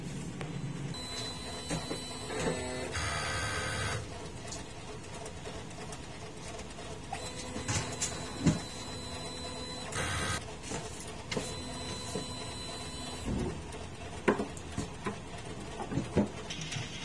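A DTF printer runs a head cleaning cycle, its motors whirring in stretches of steady mechanical hum punctuated by clicks, clunks and short buzzing bursts, close and with no talk.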